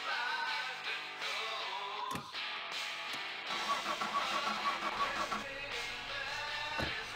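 A car engine in the driving game My Summer Car, pulling away in first gear with uneven revving and a few abrupt cuts, mixed with clattering mechanical noise and no talking.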